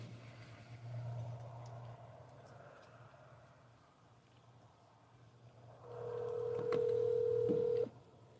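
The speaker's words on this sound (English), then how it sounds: "I'm going to be with the phone calling Velda" A phone dials out for a call: brief keypad tones sound early, then a loud steady ringback tone begins partway through and holds for about two seconds, all over a low constant hum with no talking.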